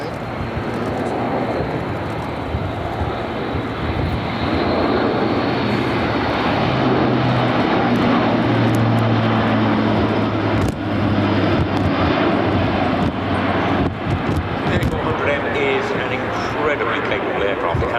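A Luftwaffe Airbus A400M military transport flies past at an air show with its undercarriage down, a loud, sustained propeller-engine drone with tonal hums shifting in pitch, and a voice talks over it.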